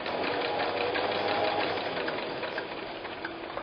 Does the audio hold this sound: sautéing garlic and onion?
no